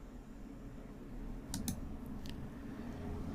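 A couple of sharp computer mouse clicks, close and fairly faint, selecting a download option over a low steady background hum.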